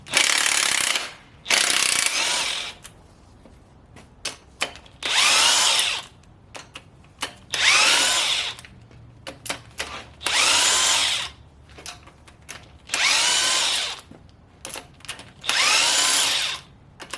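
Bursts from a DeWalt power drill or impact driver during an LS 5.3 engine teardown: about eight loud, close whirring runs of a second or so each, separated by short pauses with small clicks and rattles.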